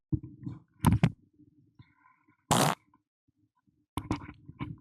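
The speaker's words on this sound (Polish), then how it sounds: "ale mokry bąk" A wet, sputtering fart bursts out alone for about a quarter second, loud and close, with chatter and a few sharp thumps before and after it.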